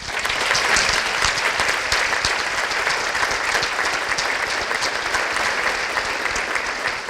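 Audience at a county State of the County address breaks into sustained applause for the sheriff, a dense, loud wash of clapping that stays even and unbroken throughout.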